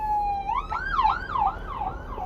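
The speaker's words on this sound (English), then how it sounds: "There's a spirit of ambulance came by." An ambulance siren passes by, a steady high tone that shifts into rising and falling wails, fairly loud over a low road rumble.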